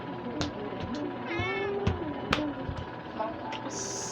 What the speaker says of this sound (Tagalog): ito nga po pala yung pusa ko guys